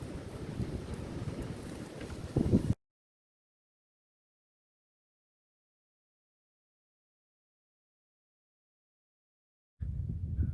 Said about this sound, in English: See the trees blowing.